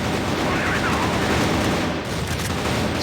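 Rapid automatic gunfire from a competitive CrossFire esports match, a dense, loud, sustained spray of shots with no pauses.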